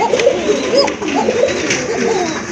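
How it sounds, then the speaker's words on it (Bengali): Pigeons coo over and over in a steady run of low, throaty calls, close and clear, with faint background noise behind them. "খুবই ভালো মানের কবুতর, কোয়ালিটি ফুল কবুতর, খুব ভালো ডাকে"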